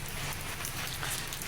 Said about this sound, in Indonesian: Sedang turun hujan, saweger.